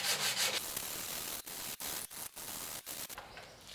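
Wooden Greenland paddle being sanded by hand with sandpaper on a block: close, steady abrasive rasping strokes with brief pauses between passes.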